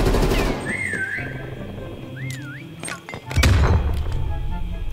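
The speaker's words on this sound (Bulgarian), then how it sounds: "Хвърли граната" Grenade in a PS5 hide-and-seek video game: a heavy thud and blast land near the end after quieter game effects with whistling tones, while people talk softly throughout.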